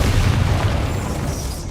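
Confringo explosive spell going off in the video game Hogwarts Legacy, a loud, heavy boom with a deep rumbling burst that fills the whole moment and slowly fades, with no talk over it.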